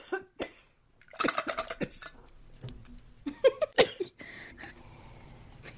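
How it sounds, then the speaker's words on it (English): Several bursts of dry throat coughing, close and fairly loud, in irregular clusters separated by short gaps and breathy pauses. "I'm about to have a coughing fit."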